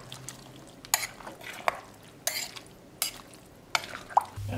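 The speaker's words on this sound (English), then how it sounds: "Stir up the mixture" A spoon stirs baked bean mixture in a crock pot, giving a series of separate scraping clinks and wet swishes spaced roughly half a second to a second apart, close and moderately loud, with no talking.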